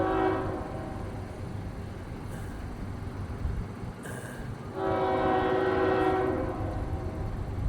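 A freight train passes through a downtown restricted-speed area, a steady rumble of rolling cars with a horn blowing in a couple of sustained blasts, one early and a longer one near the end.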